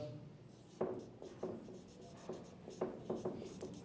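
Chalk or marker writing on a board in a classroom, a faint series of short scratchy strokes and taps at an irregular pace, with no talk during the strokes.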